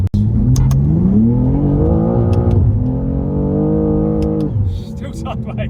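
Revving from a BMW G87 M2 fitted with an aftermarket exhaust: a loud, close engine note climbs steadily in pitch, holds a sustained high drone for a couple of seconds, then drops away near the end.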